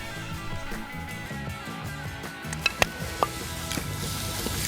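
Bacon sizzles and crackles steadily in a Broil King frying pan over a campfire, a continuous close hiss with a few sharp pops and clinks of a utensil, over low background noise.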